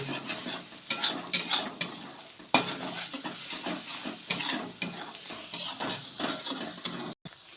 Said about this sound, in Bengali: দিয়ে ঝুড়ো ঝুড়ো করে ডিমটা আমি ভেজে নেব